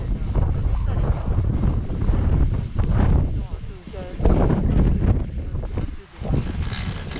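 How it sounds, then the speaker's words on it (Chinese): Strong wind gusts across a ski slope at Shiga Kogen in light snow, a continuous loud roar buffeting the microphone throughout, with people talking over it. "这样不是风大 吗？对啊，风很大，"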